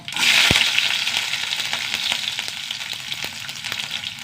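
Mustard seeds and garlic cloves frying in hot oil, a dense steady sizzle with scattered sharp pops and crackles, loud and close throughout.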